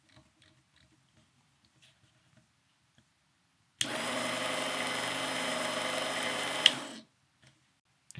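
Work Sharp Combo Knife Sharpener belt spinning: a single steady motor whir with a sandpaper hiss that starts sharply, runs for about three seconds and then stops, up close and with no talk.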